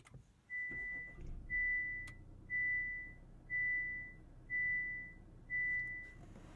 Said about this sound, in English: Hear those light chimes?